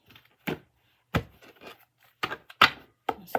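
Playing cards being shuffled by hand, a series of short crisp riffling bursts separated by brief pauses, close and quiet, with no talking.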